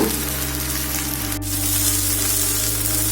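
Gongura leaves sautéing with rock salt in a pan give a steady, close, loud sizzle with a constant frying crackle throughout, no voices.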